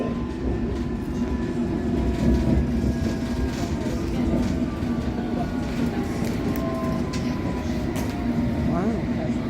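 A London Underground Circle Line train runs steadily with a constant rumble, rattling clatter and faint squeals from the carriage, heard from inside and continuous throughout.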